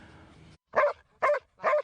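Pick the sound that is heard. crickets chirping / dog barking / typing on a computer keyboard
dog barking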